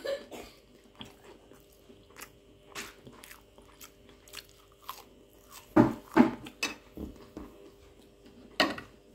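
Someone bites into and chews Nigerian akara, a fried bean fritter, giving faint irregular crunches with a few sharper bites in a quiet room.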